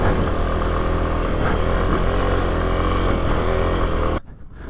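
A 2024 Kawasaki KLX300 dual-sport motorcycle held at full throttle in second gear, a loud steady engine drone close to the listener that cuts off abruptly near the end.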